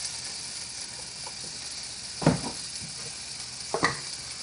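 Grass-fed ground beef with fresh garlic sizzles in a pan as a steady soft hiss, broken by two brief clattering tosses partway through, close up and with no talking.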